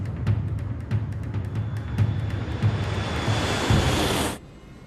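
Airliner jet engines spool up to takeoff thrust for a Germanwings departure on runway 07 right, a loud steady roar with a rising hiss that runs several seconds before cutting off abruptly near the end.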